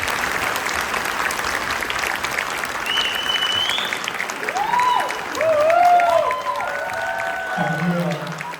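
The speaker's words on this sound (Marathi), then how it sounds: "त्यांच्यासाठी जोरदार टाळ्या लागतात" A theatre audience claps for the cast of a Marathi play, with loud sustained applause and some crowd noise while a voice talks over it.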